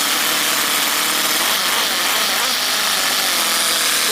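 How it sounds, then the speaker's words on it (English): A Toyan L400 model engine with its gearbox in neutral, revving with a loud, high, buzzing whine that stays steady and close for the whole stretch. "But with this gearbox you can rev it,"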